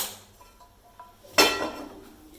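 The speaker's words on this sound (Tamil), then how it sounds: "இப்போ நல்லா முட்டை ஊறிட்டு ஸ்டவ்வை பற்ற வச்சு சட்டியை வைக்கலாம்." A cooking pan is set down on a stove burner while an egg masala is being made, giving a single sharp metallic clank after a quiet stretch with faint kitchen clinks.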